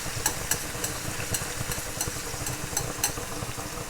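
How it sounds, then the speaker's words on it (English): Tomatoes fry in a pan, making a dense, loud sizzle and crackle, with a low rumbling hum underneath and faint regular ticks of stirring. No one speaks. "We're just going to let them fry up for maybe 30 seconds while they release their juices"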